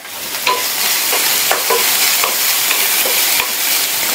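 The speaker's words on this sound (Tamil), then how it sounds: "வெங்காயம் வதங்கிட்டு இருக்கும்போது இதில் கொஞ்சமாக உப்பு சேர்த்துக்கலாம்." Onions sauté in a pan with salt, asafoetida and turmeric. A loud, continuous sizzle fills the stretch, broken by a few sharp scrapes of stirring, and no one speaks.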